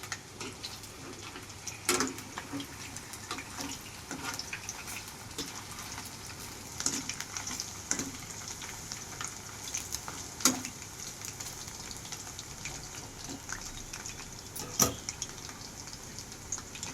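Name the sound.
chicken pieces frying on medium flame, Telugu style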